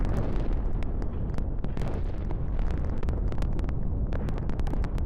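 A continuous, roaring blast with crackling pops and bangs throughout, a large gas station explosion and fire, loud and harsh with wind buffeting the microphone.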